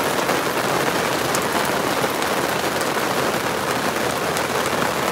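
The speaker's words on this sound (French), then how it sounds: "on a un peu de grêle. Ça rebondit par terre." Small hail pelts and bounces on the ground outdoors, a dense, steady hiss of hard pellets striking without pause, loud and close, with no voices.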